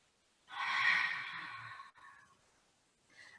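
A person breathes during a pilates breathing exercise, one long audible breath lasting over a second that trails off, then a softer breath begins near the end, close to the microphone.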